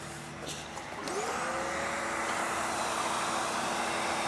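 A Hoover vacuum cleaner runs off a portable power station, its steady motor roar climbing in pitch as it spins up after a moment, then holding a loud, even whine close by with no talking.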